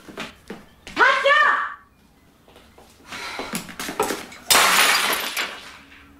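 A drinking glass shatters with a bright crash and tinkling shards, followed by more clinking and scraping of broken glass amid voices talking indoors.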